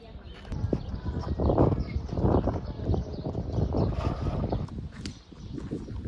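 Strong wind buffets the microphone outdoors in northern Argentina, a steady rumbling gust noise that swells and dips throughout with no clear pauses.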